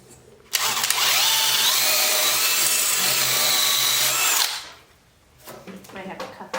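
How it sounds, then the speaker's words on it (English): A power drill reams out holes in wood while a swing is being built, whirring loudly and steadily for about four seconds before spinning down, followed by quieter handling noises. "I could ream them out."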